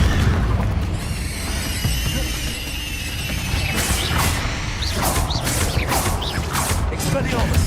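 A Confringo fire curse from Hogwarts Legacy bursts in a series of booming blasts with whooshing flares, several distinct impacts in the latter half layered over busy game noise.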